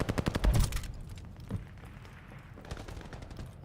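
An STG-44 assault rifle fires a fast, loud burst in Call of Duty: Vanguard. Then comes a quieter gap with a few scattered shots, and another brief burst at the end.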